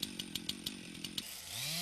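A chainsaw is pull-started in a logging safety setting: a quick series of sharp, regular engine pops gives way to the motor catching and revving up into a steady, rising whine, fairly close and without any talk.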